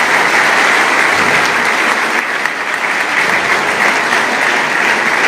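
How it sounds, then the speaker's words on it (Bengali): A large audience at a school function claps loudly and steadily, a dense, continuous wall of applause that holds at full strength throughout without pause. "এবার জোরে হাততালি দাও দেখি।"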